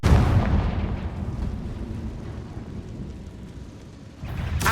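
A heavy, booming fire-spell blast from Hogwarts Legacy rolls out loud at first and fades into a long rumbling tail, with a fresh surge at the very end.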